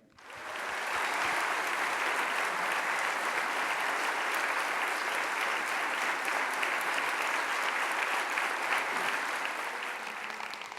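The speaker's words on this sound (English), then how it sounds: "please give a huge round of applause for the founder of World Merit" A large audience at World Merit Day in Liverpool gives a huge round of applause for the founder of World Merit, sustained, loud and steady clapping that swells in quickly and carries on for several seconds.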